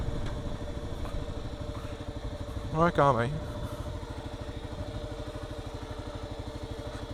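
A Kawasaki KLR dual-sport motorcycle ridden slowly along a rough trail, its engine giving a steady close-up throbbing drone with a brief louder rev near the middle, and a voice speaking briefly over it.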